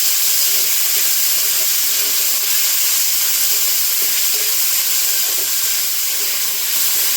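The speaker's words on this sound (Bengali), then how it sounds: "জল ঝরিয়ে নিয়েছিলাম, সুন্দর করে ঘি দিয়ে ভেজে নেব আমি সাবুটা।" Drained sago pearls frying in ghee give a loud, continuous hissing sizzle, close and steady throughout, with faint stirring scrapes underneath and no voices.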